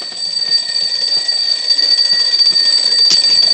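A fire alarm device sounds during an alarm test, a steady high-pitched electronic tone ringing continuously and loudly, with faint rattling and clicks underneath.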